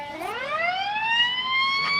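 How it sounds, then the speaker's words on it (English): A loud ambulance siren wails upward in a rising sweep and then holds a high, steady tone, sounding fairly close. "Ambulance."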